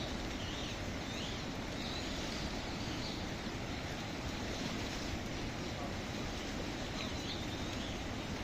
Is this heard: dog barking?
no